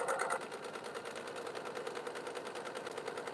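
A sewing machine stitching through thick bag fabric, a fast even mechanical chatter of the needle running steadily at moderate volume, close by and with no talk.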